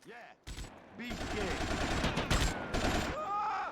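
Gunfire in GTA Vice City Stories on PS2: a dense run of loud shots and bursts fills most of the stretch, with game dialogue in between.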